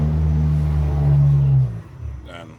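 A car engine idles steadily with a low, even hum during fuel injector cleaning, the fuel pump disconnected and the fuel rail fed through a regulator at about 50 psi. The engine note then drops away abruptly, leaving quieter, uneven noise.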